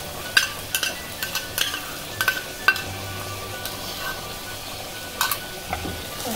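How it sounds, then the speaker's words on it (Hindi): Spice masala mixed with yogurt for gatte ki sabzi is stirred in a pan over a very low flame, a quiet steady sizzle under sharp spoon clinks and scrapes against the pan at an irregular pace. "अब हम इसमें फ्लेम बिल्कुल सिम करके ये मसाला ऐड करेंगे और मसाला ऐड करते ही हम चलाते रहेंगे"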